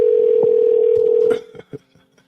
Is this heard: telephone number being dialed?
yes